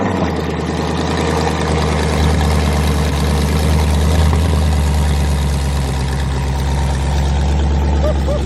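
A rebuilt Ford Mustang GT 5.0 V8 idles with a dumped exhaust, a loud, steady, deep rumble with a fast lopey pulse that holds close and unbroken throughout.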